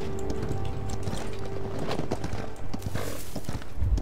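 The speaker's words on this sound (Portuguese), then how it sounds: "Monta no cavalo aí." Hooves clatter in a rapid galloping rhythm in Paladins amid a dense wash of game noise, continuous and fairly loud, with no clear speech.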